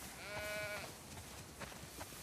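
A sheep bleats once in The Last of Us Part II, a clear wavering call near the start, followed by faint scattered farm-animal and ambient sounds.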